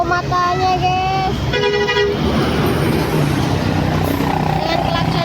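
A passing bus sounds a loud musical horn, several rising and falling tones blasting close by over roadside traffic noise, with people talking nearby.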